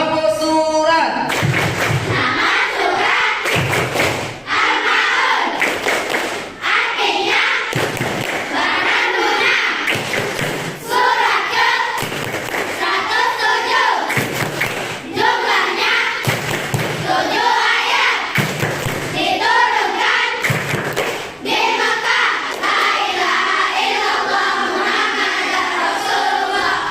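A classroom of children claps in rhythm to a Surah Al-Ma'un clap chant, loud and sustained, with clustered bursts separated by brief pauses and voices chanting along throughout.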